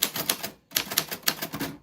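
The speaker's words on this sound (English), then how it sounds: "So your name fell on the typewriter bell." Manual typewriter keys clacking in rapid bursts over about two seconds, with a short pause partway through, close and fairly loud with no talking.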